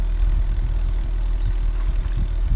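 A 2008 Audi 2.0T engine, just treated with Seafoam, runs steadily at low pitch, with slight surges in loudness as it is revved, heard up close with no talking.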